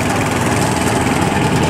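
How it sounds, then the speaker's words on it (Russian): A walk-behind tractor (motoblock) engine runs steadily while being ridden, giving a loud, constant, close chugging drone with a rough vibrating texture and no voices. "Вот мы в Ростове на мотоблоке за рулем."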